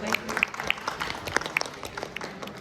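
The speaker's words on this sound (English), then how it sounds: "please give a round of applause" Audience applause at a panel session of a literature festival on Indian history: scattered claps from a modest crowd, a few sharp individual hand claps standing out over a soft, steady patter.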